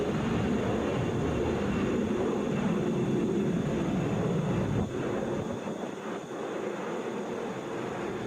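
An American Airlines Airbus A321 bound for DFW passes at Atlanta International Airport, a loud, steady jet engine roar that eases slightly after midway, continuous and fairly close.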